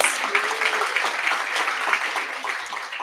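Steady applause from a ceremony audience for a speaker at a university white coat ceremony, a dense, even wash of clapping lasting the full few seconds at moderate loudness, with faint voices mixed in.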